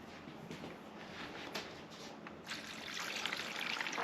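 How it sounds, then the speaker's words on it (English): Water poured from a container into a jug to measure drainage rock, a steady trickling pour that builds louder and fuller toward the end, close by with no talk. "So I'm going to pour this 9 inches of water into this jug"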